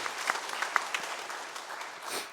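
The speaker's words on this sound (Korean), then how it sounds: "우리 큰 박수로 함께 축복하겠습니다" Church congregation applauding during a Sunday worship service, a short burst of dense clapping from a room full of people, fairly distant and reverberant, fading toward the end.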